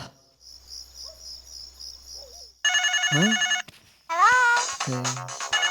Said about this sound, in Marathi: ए कुतुब तुझा फोन आहे